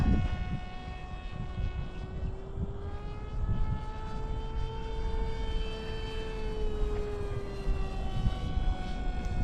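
An RC Giant Wing airplane with a 1200mm span on a 4S battery runs its electric motor at full throttle, giving a steady high whine whose pitch rises and falls as it flies past, with wind noise over the outdoor setting.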